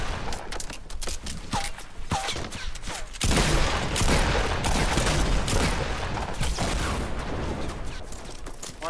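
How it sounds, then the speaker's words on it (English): Dense, continuous video game gunfire, with rapid shots crackling from several directions and a heavier sustained barrage swelling partway through, loud and close. "I think they're getting shot at from all sides."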